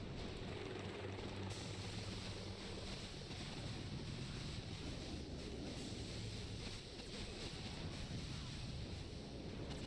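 Rocket chopper helicopters in the mobile strategy game Boom Beach, a steady loud rotor-like drone with rumbling battle noise running continuously throughout.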